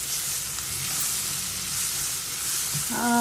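Steady sizzling of chicken frying in a pan until browned, a continuous crackling hiss close by, with a brief stirring clatter near the end.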